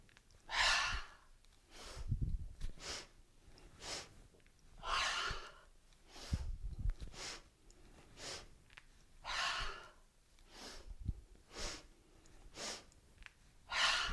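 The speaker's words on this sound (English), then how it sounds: "we'll do the breath of joy. So it's 3 inhales without exhaling, and then a big long exhale" Yoga breath of joy performed aloud: repeated sharp audible inhales in quick groups followed by long, breathy exhales, cycling several times at close range with no talking.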